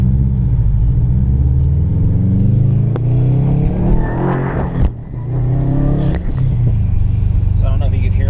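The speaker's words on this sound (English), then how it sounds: "As you can hear, I got the exhaust on here. It doesn't sound too bad." A Subaru STI with Stage 1 Plus tuning, an aftermarket exhaust and intake, rumbles and revs loudly from the cabin during a full-throttle pull, rising in pitch through a gear then dropping at a shift.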